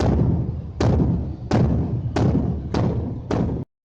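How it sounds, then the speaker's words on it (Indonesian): A large bedug drum is struck five times at an even, unhurried pace, each deep booming hit ringing briefly before the next. "Bunyi beduk ya yang dipukul."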